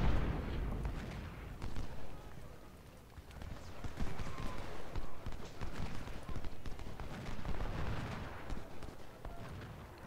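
Civil War artillery cannons fire repeatedly at the Battle of Bull Run in Ultimate General: Civil War, as scattered booms and cracks ring out from a distance under ongoing conversation.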